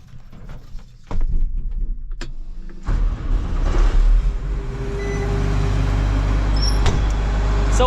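Old farm machine engine cranking and starting, then settling into a loud, steady running rumble close by, with a few mechanical clunks before it catches.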